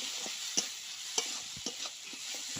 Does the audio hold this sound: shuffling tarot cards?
no